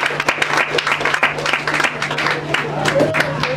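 A gathering claps for donors to a community project in Lingwala, quick irregular hand claps with a steady hum beneath and a voice speaking briefly over the applause.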